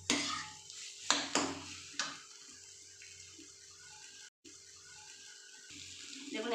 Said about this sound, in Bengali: দিয়ে আলুটাকে এর সঙ্গে ভালো করে কষিয়ে নেব।